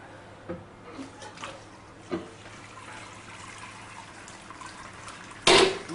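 Wort trickles and drains steadily from a lifted malt pipe in a Braumeister 20L all-grain homebrew system, a soft continuous wash of liquid with a brief louder splash near the end.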